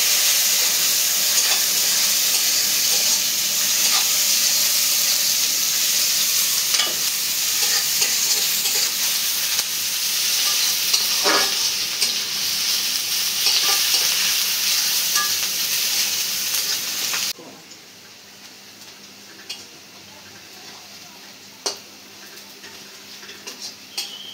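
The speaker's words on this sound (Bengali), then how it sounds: "পেঁয়াজটা বাদামি করে ভাজা নেব।" Chopped onions and green chillies sizzle in hot oil in a pan for a rohu fish dopiaza, a loud continuous frying hiss with occasional stirring clinks, which drops suddenly to a faint sizzle near the end.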